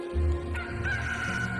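A rooster crows once, clear and fairly close, a drawn-out harmonic call over a low background hum.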